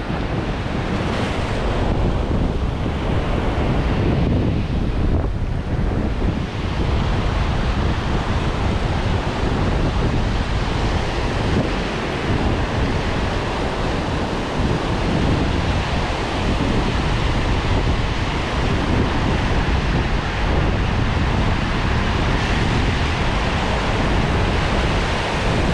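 Ocean surf crashes and washes continuously onto a beach at K'Gari (Fraser Island), a loud, dense roar with wind buffeting the microphone throughout and no speech.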